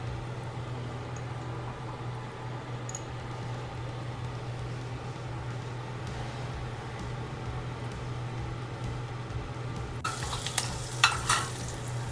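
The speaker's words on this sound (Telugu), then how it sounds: "వెల్లుల్లిపాయ ఇలాగ బ్రౌన్ కలర్లోకి వచ్చాక ఎండుమిర్చి, పెసరపప్పు అండి అండ్ జీలకర్ర." Two crushed garlic cloves fry in a little oil for a tempering for nalleru chutney, giving a continuous soft sizzle over a low steady hum, with brief louder crackles toward the end.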